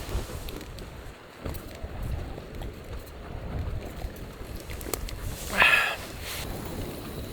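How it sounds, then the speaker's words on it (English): Wind blows steadily around a tent pitched beside a lake in Abisko, in Sweden's far north. It makes a constant rushing roar with gusts against the fabric, and a brief faint chirp is heard near the end. "Just laying here and listen to the wind."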